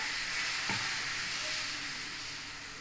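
Steady sizzling of vegetable batter with capsicum, carrot and onion frying on an oiled flat griddle over a low gas flame, a continuous close hiss with a faint clink near the start.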